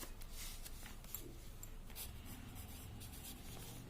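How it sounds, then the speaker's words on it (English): A pen writes out an answer on paper, a soft continuous scratching and rubbing of strokes, close and quiet, with no talking. "So we will write this answer here."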